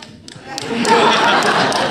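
A cinema audience at a film premiere applauds, the clapping swelling from quiet into a sustained, full burst that fills the room with a murmur of voices mixed in.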